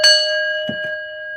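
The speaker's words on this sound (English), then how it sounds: "Man, let's ring the bell, guys." A single strike of a bell rings out loud and clear, its bright tone hanging and slowly fading, with a soft thump or two underneath.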